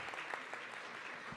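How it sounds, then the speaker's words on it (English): A faint, brief burst of clapping from a small gathering honoring elders at a summit reflection circle, heard at a distance. "can we get a round of applause for our Dawson elders?"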